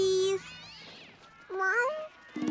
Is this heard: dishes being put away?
no